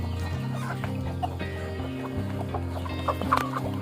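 Several older, full-grown free-range chickens on a poultry farm cluck and murmur continuously close by, with overlapping calls and a few louder squawks toward the end.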